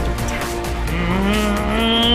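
Vehicle tires in the Robocraft video game roll and squeal loudly, a sustained whining drone with rising tones across the whole short stretch.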